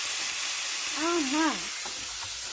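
A chuck roast sears in a hot pan with a steady, close hiss and sizzle throughout, and a brief voice sounds over it midway.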